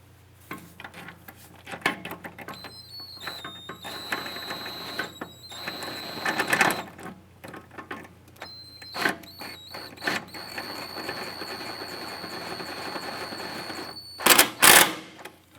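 A body bolt is snugged into the front subframe mount of a 2004-2008 Acura TL, with irregular ratcheting clicks, metallic taps and short whirring tool bursts coming and going close by, ending in a sharp louder clatter.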